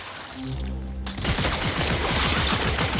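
Rapid weapon fire in Warframe, a quick burst of sharp shots that starts abruptly after a short low tonal sweep and continues as a loud, steady rattling stream.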